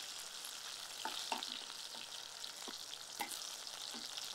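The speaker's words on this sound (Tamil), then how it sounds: "வெங்காயம் நல்லா வதங்கிச்சு." Onions sautéing in a pan, a soft, steady sizzle with a few light scrapes of stirring, close and quiet, with no talking.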